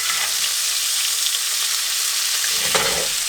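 Steak searing in a very hot cast iron pan at a truck camper, a loud continuous hiss and crackle of sizzling fat close by, steady throughout with a few sharp pops.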